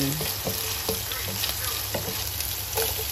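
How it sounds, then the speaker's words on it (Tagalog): Chopped onions sauté in hot oil for Filipino ginisang monggo, a steady sizzle broken by repeated scrapes and taps of a spoon stirring the pan, close and continuous. "haluin lang natin para pantay-pantay yung pagkaluto ng sibuyas natin para hindi siya masunog"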